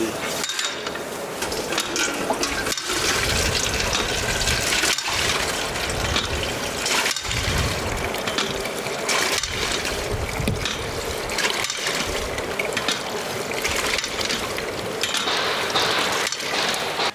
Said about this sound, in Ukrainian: Смотрите, сколько я буду качати, щоб накачати води.